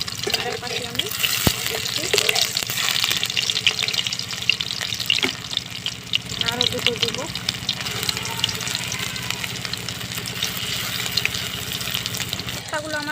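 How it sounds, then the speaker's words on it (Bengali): Chicken koftas fry in oil in a pan with a steady, close crackling sizzle throughout, while someone talks briefly over it. "এবারে আমি কোপ্তাগুলো ভেজে নেব।"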